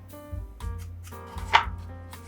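A carving knife cuts square windows into foam board for a sky castle diorama, giving several sharp close cuts and scrapes in an irregular rhythm, with one louder stroke near the end.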